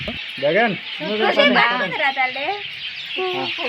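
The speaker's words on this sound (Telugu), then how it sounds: "సాయంత్రం వేళ పక్షులు తమ గూటికి వెళ్తూ సౌండ్ ఎలా చేస్తున్నాయో చూడండి" Birds call repeatedly at close range at dusk as they return to their nests, in clucking, chicken-like bursts, with a few short pauses between them.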